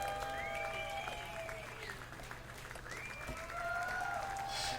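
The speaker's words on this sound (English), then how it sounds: "Behind me, I can hear the audience's cheers grow louder." An audience in the Snoot Game video game cheers and applauds in a steady, faint wash of crowd noise, with whistle-like tones rising and falling over it, and no one speaking.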